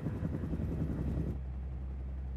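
Helicopter rotor noise from a drama about the Chernobyl reactor fire, a steady low thrumming drone that holds loud before dropping to a dull, muffled rumble partway through.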